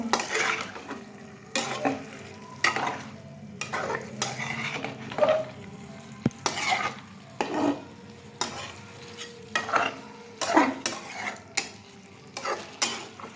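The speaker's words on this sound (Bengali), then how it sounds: "আমার চিকেন কষা চলছে" Chicken kosha with freshly added yogurt being stirred and sautéed in a pan, with a spatula scraping in regular strokes roughly every second over a steady low sizzle, close and moderately loud, no talking.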